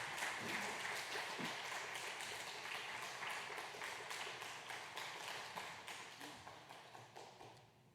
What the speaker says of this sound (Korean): 우리 전도사님 나오실 때 또 박수로 환영해 주시겠습니다.